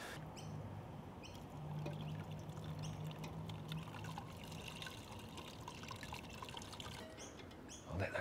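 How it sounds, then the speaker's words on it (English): Whey pours steadily from a height through cheesecloth onto vegetable offcuts in a home kitchen, a continuous close splashing trickle with faint clatter. "now I'm going to pour the whey over our sort of vegetable offcuts"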